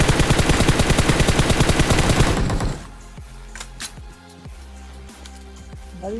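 Rapid automatic gunfire from a mobile battle royale video game, a loud steady burst of shots for about two and a half seconds, then dropping to quieter scattered game sounds.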